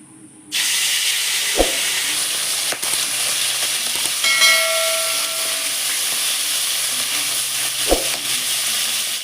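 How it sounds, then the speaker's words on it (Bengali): Bhola fish sizzles in white oil in a wok, a loud steady hiss with a few sharp crackles and pops, with no talk. "সাদা তেলে মাছ ভাজলে অনেক সময় মাছটা কড়াইতে লেগে যাওয়ার ভয় থাকে।"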